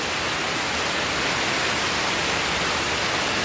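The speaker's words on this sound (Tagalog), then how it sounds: "sagsag na naman ng ulan. O, tingnan mo, lalong lumakas" Heavy rain pours down outdoors as a steady, dense hiss that fills the whole stretch at a constant level, with no other sounds.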